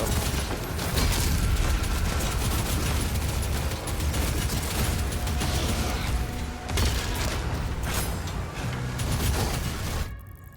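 A nail-gun-like weapon firing in the game DOOM: The Dark Ages, with loud, dense, continuous rapid fire and booming impacts that barely let up before cutting off sharply at the end.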